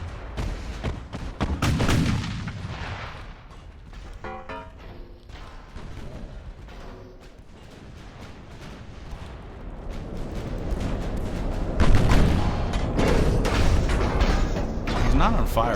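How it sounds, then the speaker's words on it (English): Battleship big guns firing volleys in the naval video game Ultimate Admiral: Dreadnoughts: heavy booms and rumbling blasts layered with mechanical clatter, dense near the start and swelling again toward the end, with a voice talking over much of it. "Another volley, here we go, with the big guns."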